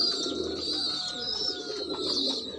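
Pigeons coo inside a simple pigeon loft, soft throaty calls overlapping near at hand over a steady background hum, with no talking.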